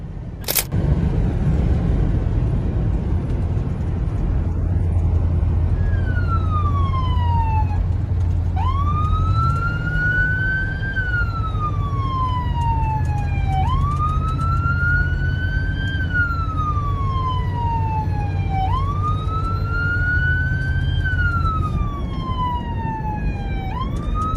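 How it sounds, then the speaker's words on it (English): A loud police siren wails in repeated rising and falling sweeps, close by, over a low engine rumble, continuing steadily throughout. "police car pulled up behind them, its emergency lights and sirens blared"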